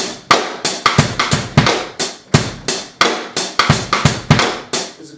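Drum kit playing a swung 90s hip-hop groove, with punchy kick and snare hits in a steady, laid-back rhythm and busy hi-hat, close and loud with no talking.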